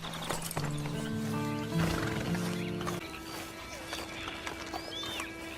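A horse neighing and whinnying in the Red Dead Online video game, a loud drawn-out whinny up close, followed by clip-clopping hooves and faint outdoor ambience.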